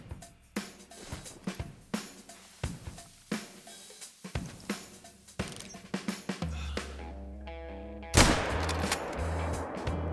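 In theHunter: Call of the Wild, a hunting rifle fires a single loud, sharp shot at a deer near the end, after a run of soft, rhythmic ticking and a low hum.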